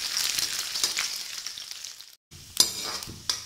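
Green chillies and garlic sautéing in hot oil over a medium flame, a close, bright sizzle with a few stirring scrapes, a brief drop to silence, then renewed spitting and clatter.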